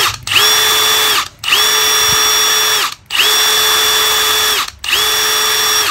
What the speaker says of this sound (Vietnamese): cây này thì có 4 cấp độ điều chỉnh lực, số 1, 2, 3 và thứ 4 là chế độ bắn ốc tự động